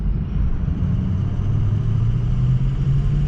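A Ford Excursion accelerates hard from a standstill toward 60 mph, a deep continuous engine rumble with a slowly rising low tone, loud and close throughout the short stretch.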